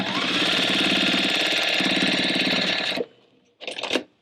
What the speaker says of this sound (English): I am going to come through and just quilt an X through it as well